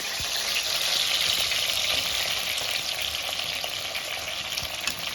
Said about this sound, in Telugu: ఇట్లా కట్ చేసుకొని ఫస్ట్గా ఆయిల్ ఆయిల్లో వేయించుకోవాలి